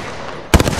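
Automatic gunfire in an Apex Legends battle royale match: a steady noisy background, then a sudden loud burst of rapid, closely spaced shots.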